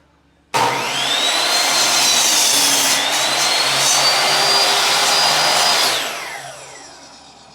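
A saw cuts through a 2x4 wood board in a workshop, a loud, steady whining roar that starts abruptly, holds for about five seconds, then fades as the blade winds down.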